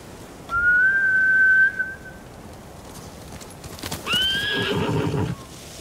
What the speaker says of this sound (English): bastards scared off the horses